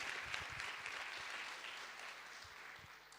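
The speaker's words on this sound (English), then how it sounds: "Big applause, please, for Fiona." Audience applause for Fiona at the INN FEST event: faint, steady clapping from a distant crowd that carries evenly throughout without voices.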